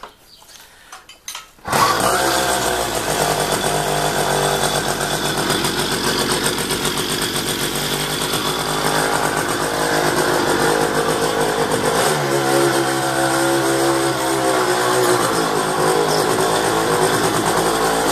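A Riga 13 moped with a suspected crankshaft fault cranks a few times, then catches and runs as a loud, steady buzzing two-stroke engine close by, with a shift in pitch as the revs drop partway through.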